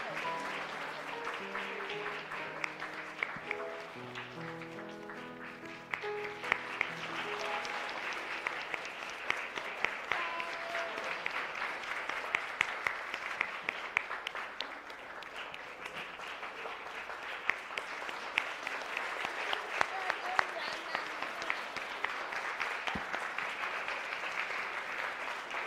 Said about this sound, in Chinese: 大家继续掌声给，